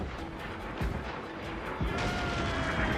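Mortar fire in Assassin's Creed Black Flag naval combat: two sharp, heavy thuds about a second apart, then a louder blast and sustained crashing rumble, all over continuous sea and battle noise.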